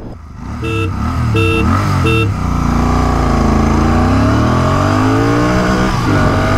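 A Royal Enfield Interceptor Bear 650 motorcycle accelerates hard during an acceleration test. Loud, close engine revs climb sharply through three quick gear changes and then settle into a long, steady pull that keeps rising.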